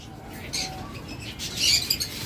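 Caged, locally bred high-mutation pet birds chirp in short, light tweets at moderate distance over a soft background hiss, with a faint rustle of wings.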